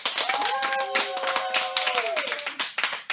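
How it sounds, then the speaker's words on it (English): A small audience claps inside a comic book store, sparse, uneven hand claps fairly close by, with a sustained humming tone and some voices in the background. "We want to thank the folks here at Fantom. Let's give them a round of applause."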